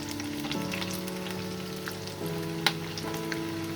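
Medium-sized onion frying in a pan until soft, a steady close hiss of sizzling oil with a faint background hum and one sharp clink, no one speaking.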